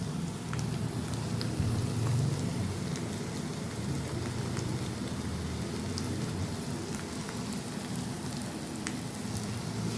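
Spices with Kashmiri red chili powder fry in a pan for a cabbage and potato dish, giving a continuous soft sizzle and crackle with scattered small pops, steady and close throughout.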